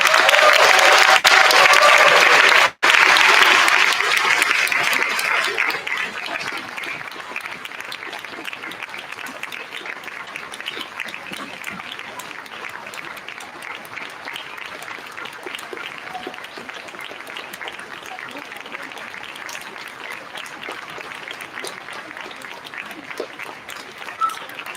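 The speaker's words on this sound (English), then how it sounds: "we are going to begin our applause right now." Audience applause at a third and fourth grade school concert, loud and close at first, then thinning into lighter scattered clapping that carries on steadily, with faint voices mixed in.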